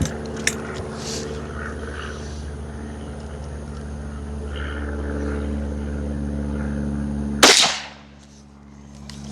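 A single suppressed .22 Magnum shot, fired with standard velocity ammunition through an Anechoic X22 suppressor, cracks sharply near the end over a steady low background hum, then its echo quickly dies away.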